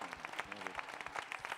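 Audience applause for a performer, José Masson, at a live show: dense, steady clapping from a crowd of many hands, sustained evenly throughout with no voices standing out.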